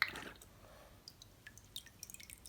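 Dye drips off freshly dipped shoes in a faint, scattered series of small drips and taps, quiet and close, with no talking.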